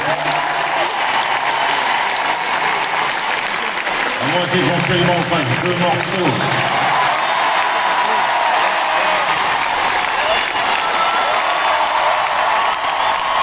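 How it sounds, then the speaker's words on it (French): An audience applauds musicians, steady full applause throughout with some cheering, while a person speaks briefly over it partway through. "on peut l'applaudir très fort."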